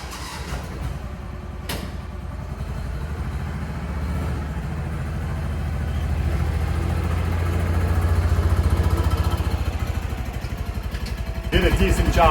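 Repaired Kawasaki Mule utility vehicle engine running steadily as it drives, a continuous mid-pitched drone that swells slightly toward the end, with a brief clatter near the start.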